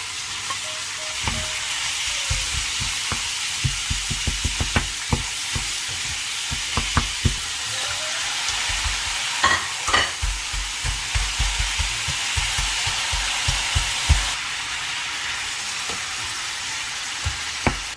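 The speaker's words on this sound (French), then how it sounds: "Maintenant, mes oignons commencent à dorer. Je vais mettre de la viande." Onions, minced steak and vegetables frying in a pan, with a steady close sizzle and repeated clinks and scrapes of stirring throughout, no voices.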